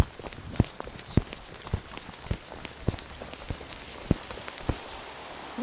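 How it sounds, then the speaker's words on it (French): Rain falls outdoors while people run for shelter, with quick irregular footsteps thudding at moderate distance over a soft steady patter of rain. "Il pleut, allons nous protéger. Vite, vite, vite, courons."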